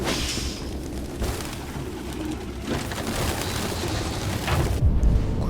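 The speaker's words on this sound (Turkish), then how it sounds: "Kuşlar bir durun sizde de Nereye uçuyorsunuz yine küçücük alanda Allah aşkına?" Pigeons flap and flutter through a cramped area in Detroit: Become Human, with soft wingbeats and cooing over a steady game ambience and a low rumble near the end.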